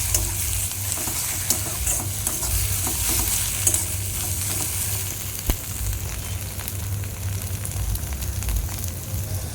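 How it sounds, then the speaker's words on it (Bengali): Two eggs fry with onion and spices in a pan, a continuous close sizzle with scraping stirs from a spatula throughout, no voices over it. "তারপরে ওর মধ্যে দুটো ডিম দিয়ে দেবো, দিয়ে দেখো ভাজা করে নিচ্ছি"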